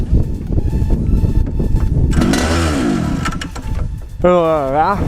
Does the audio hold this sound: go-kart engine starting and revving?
yes